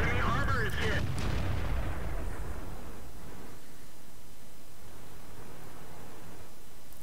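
A tank destroyer's main gun fires in World of Tanks, one heavy booming blast at the start followed by a long fading rumble and steady background noise.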